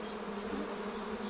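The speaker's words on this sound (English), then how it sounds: "These are the giant Asiatic bees, the biggest of all honeybees." Giant Asiatic honeybees at their colony in Malaysia produce a dense, continuous buzzing drone from many insects at once, steady and fairly close, with no talking.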